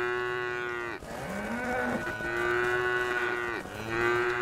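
Cows in the farming survival game Craftopia give several long, drawn-out moos in close succession, loud and near, with brief breaks between calls.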